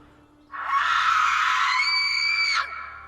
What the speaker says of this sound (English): they'd wake up to the sound of a horrible screaming and crying out in the woods